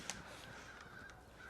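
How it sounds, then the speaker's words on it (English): Crows caw faintly in the background at an outdoor field hockey game, a few harsh calls rising over steady open-air ambience. "I turned the field mic on, and we hear the crows in the background."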